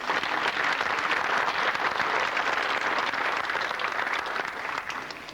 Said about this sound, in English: give him another round of applause for the work he's done